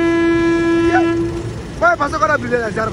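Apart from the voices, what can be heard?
train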